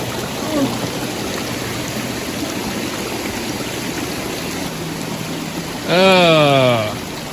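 Steady rushing of a waterfall and stream along a rainforest trail on the Atherton Tablelands, filling the whole stretch at constant loudness, with a brief voice near the start and a louder sung or spoken voice toward the end.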